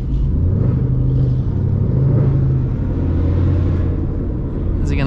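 A Corvette engine rumbles loudly nearby, building as it accelerates in a deep steady drone, with faint voices underneath.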